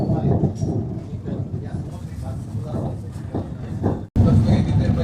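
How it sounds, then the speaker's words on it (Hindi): The 12404 Bikaner–Prayagraj SF Express pulls out of Ratangarh Junction with a heavy, rumbling rolling roar that continues past a brief cut near the end. "जैसे ही हमारी ट्रेन रतनगढ़ जंक्शन से निकलती है"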